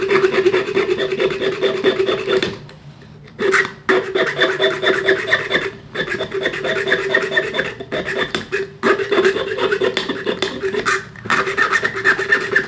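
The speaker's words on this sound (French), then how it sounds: "On va voir maintenant si je suis capable de couper cette tige de fer avec la" A Leatherman Arc multitool's saw blade cuts through an iron rod in steady, close rasping strokes, with brief pauses between runs of back-and-forth sawing.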